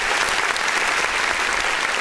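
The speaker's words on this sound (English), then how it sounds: "I want to give a round of applause to both Ron and ET on those, you know." A round of applause on an independent artist music review show, a steady wash of many hands clapping at moderate loudness with no voices over it.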